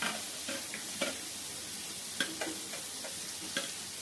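Grated carrot is stirred in a sizzling pan for biryani, with a steady frying hiss and a regular series of sharp spatula scrapes and taps against the pan, close and alone.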